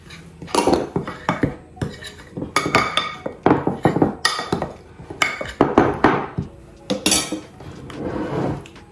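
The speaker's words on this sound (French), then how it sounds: "je vais mélanger la levure avec la farine" Yeast being mixed with flour in a bowl for a coconut and poppy seed cake: loud, close, repeated clinks and clatters of a utensil striking the bowl in an uneven, busy rhythm throughout.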